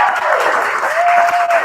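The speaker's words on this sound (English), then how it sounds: "Yes, you can applaud for them." An audience claps for sign language interpreters at a live comedy show in Washington DC, in a short burst of dense, even applause.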